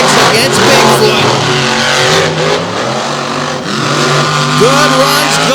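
Monster truck roaring through a racing run at an outdoor Outlaws event in Canfield, Ohio, its engine loud and close, revving up and down under an announcer's commentary.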